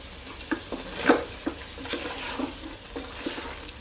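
Curry leaves sizzle and crackle in hot oil in a pan while being stirred, with a soft steady frying hiss broken by several brief scraping clinks of the spoon, close and alone with no talk.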